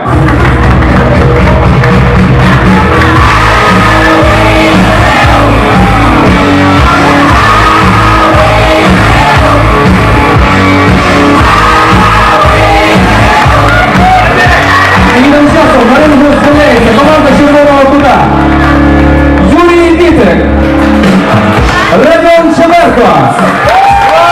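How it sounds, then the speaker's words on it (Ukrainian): Crowd cheering, yelling and clapping as boxers enter the ring at a boxing night, very loud and continuous, with music and a voice carrying over the noise. "Зустрічаємо аплодисментами!"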